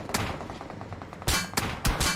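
Gunfire in the mobile battle royale game BGMI: a few sharp shots early on, then a rapid burst of several loud reports near the end, heard over a steady game background with no talk.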